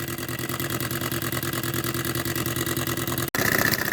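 A small PM Research model engine runs steadily on its own, with a fast, even mechanical beat and a continuous hum, briefly cut off by a sharp break before resuming slightly louder.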